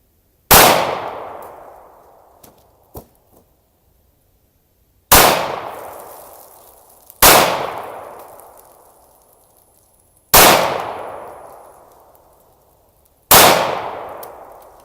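Five loud, close Smith & Wesson 500 Magnum revolver shots fired at water jugs outdoors, each a sharp blast trailing into a long echoing decay, spaced a few seconds apart with no talking.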